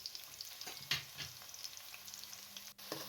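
Onions fry in half a cup of cooking oil in a wok over a medium flame, a faint steady sizzle with a few soft stirring clicks, heard alone.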